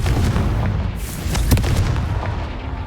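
In the video game Hogwarts Legacy, a Confringo blast spell detonates as a loud, heavy boom with a deep rumbling body. A sharp crack lands near the middle, then the roar tails off without any voices.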